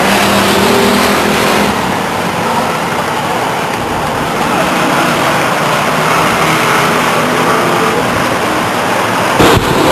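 Stock cars racing on the Stockton 99 Speedway oval, a loud, steady wash of engine roar and traffic noise heard from trackside, with a brief sharp burst near the end.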